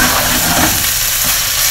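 Meat for shogayaki, about 400 grams, frying in a pan as it is stirred and loosened, giving a steady, dense sizzle close by with no voices.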